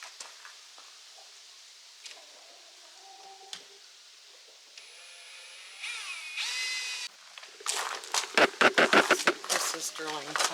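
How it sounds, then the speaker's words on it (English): A power drill drilling pilot holes whines briefly at high pitch, followed by rough, bursty drilling and grinding noises, close by against faint outdoor background sound. "Drilling pilot holes and then"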